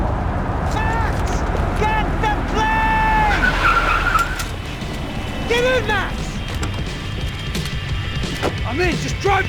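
A car skids with squealing tires during a driving sequence in the video game Max Payne 3, steady engine roar and repeated tire squeals under urgent shouting voices.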